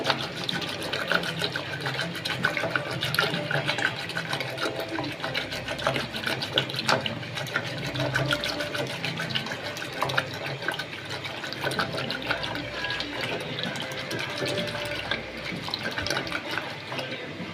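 A cupful of water is poured into a spinach and gram-flour batter for palak gargatta in a home kitchen, a steady splashing, gurgling stream that runs continuously at close range without talk.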